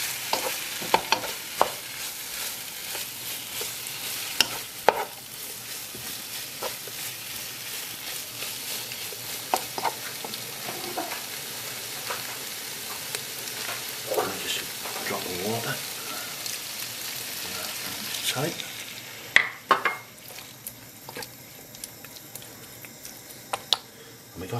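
Peppers for a lamb jalfrezi sizzle steadily in a hot pan, with clinks and scrapes as they are stirred back in, a constant frying hiss throughout and brief louder clatters near the end.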